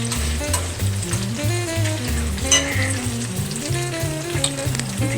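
Pork ribs for Asian sticky ribs fry in a pan, giving a steady, close sizzle that runs throughout beneath background music.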